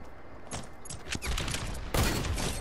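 Sniper rifle gunshots in a video game, loud and close, with several sharp blasts over a dense, continuous wash of game noise and other gunfire.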